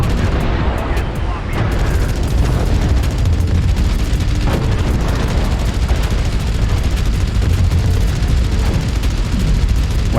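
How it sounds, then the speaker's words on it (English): Mech machine guns in MechWarrior Online fire in a long, dense, loud barrage amid booming combat noise, steady throughout with a voice talking over it. "When I need to cool, I can just keep the machine guns running."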